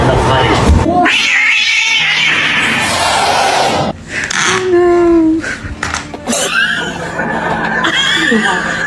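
A cat yowls and caterwauls in drawn-out wavering cries, close and loud, with people laughing and talking around it.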